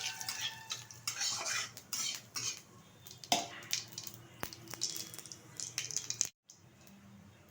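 Whole cumin seeds frying in hot white oil in a wok, stirred with a metal utensil that clinks and scrapes repeatedly over a faint sizzle, with a brief cut to silence near the end.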